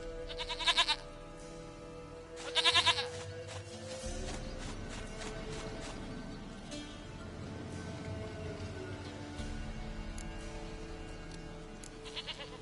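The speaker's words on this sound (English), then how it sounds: "Go goat of mine, dearest, sweetest goat." A goat in The Witcher 3: Wild Hunt bleats twice in short bursts near the start, then again faintly at the end, over a continuous game ambience of music and background tones.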